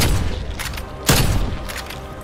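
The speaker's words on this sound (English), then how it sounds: "Shooting me through walls, waiting for me." Video game gunfire: a cheater shooting through walls fires a rapid volley of loud, close shots, with one heavy blast standing out near the middle amid continuous action noise.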